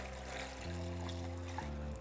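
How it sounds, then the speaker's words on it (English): Water pours steadily into a pot of tomatillos, serrano or jalapeño chiles, chile de árbol and a piece of onion, a soft continuous trickle over a steady background hum. "Cover them with water"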